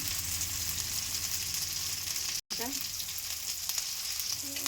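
Garlic paste fries with browned onion and cumin paste in oil in a kadai, giving a continuous close sizzle that cuts out for a moment at the midpoint before crackling on with a few stirring scrapes.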